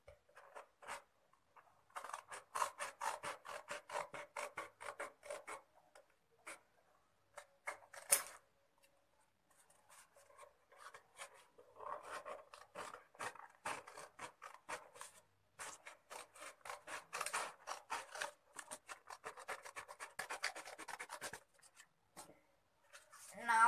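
Scissors snip through paper while trimming the base of a paper cone for a 3D Christmas tree craft, a long run of quiet, rapid cutting strokes in bursts with brief pauses.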